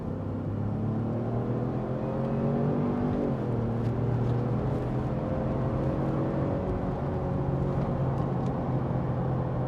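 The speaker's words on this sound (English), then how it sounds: "that's plenty of power from this EcoBoost V6 engine" 2020 Ford Expedition Platinum with an EcoBoost V6 accelerating hard in sport mode, a steady rising engine drone with a brief dip as a gear shifts, heard from inside the cabin without talk.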